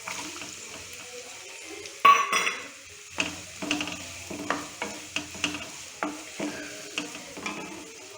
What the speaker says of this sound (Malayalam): ഇനി നമുക്കിതിലോട്ട് എടുത്തു വച്ചിരിക്കുന്ന ചെറിയ ഉള്ളി ചേർത്ത് കൊടുക്കാം